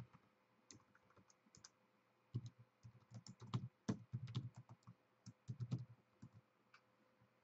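Rapid keystrokes on a computer keyboard, irregular bursts of close clicking that pause and resume, with no voices.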